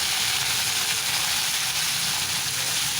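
Curry leaves and coriander sizzle in hot oil for a small-onion sambar, a steady, loud, close hiss that continues unbroken throughout.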